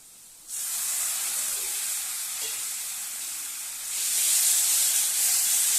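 Spices for ghugni frying in a pan, a bright hissing sizzle that bursts in after a quiet start, holds steady up close and swells louder near the end, with no talk.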